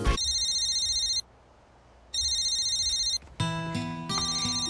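A mobile phone ringtone in a Japanese cinema manners ad rings out in two bursts of electronic trilling separated by a brief pause, then gives way to a louder, busier melodic chime; no voices.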